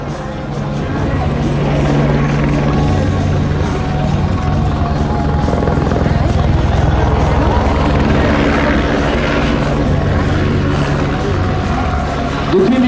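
Steady French gendarmerie helicopter rotor and engine drone at the Biscarrosse 2025 air show, loud and close, with muffled voices talking underneath throughout.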